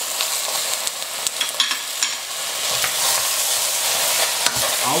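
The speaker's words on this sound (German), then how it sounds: "Dann geben wir die Fischkarkassen dazu." Fish carcasses sizzle and fry in a pot as a base for fish stock, a steady broad crackling hiss with occasional stirring clicks and scrapes, close and continuous for about five seconds, no talk.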